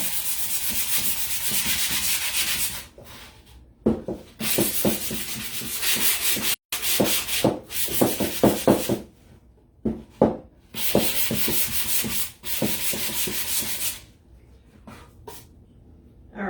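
Sandpaper scrubs the sides of a metal pumpkin wall decoration to distress it. Bursts of harsh, rapid back-and-forth rubbing come up close and are broken by short pauses, with no talking.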